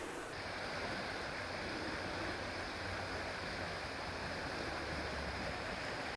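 The River Loxley flows past a bridge in the Loxley Valley near Sheffield, a steady, close rushing of water that holds constant throughout, with no voices.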